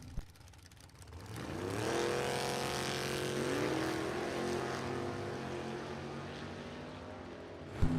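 A 1992 Chevrolet Camaro and the Red Dragon Buick Regal launch side by side at a Super Pro drag race, a loud, sustained engine roar swelling after a quiet second and holding steady to the end.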